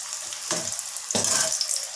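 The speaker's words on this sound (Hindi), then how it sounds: "जिंगर फ्राइज़ हमारी बहुत अच्छे से फ्राई हो रही है।" Zinger fries bubbling in hot oil, with a steady soft sizzle that swells in two louder bursts, close and without talk.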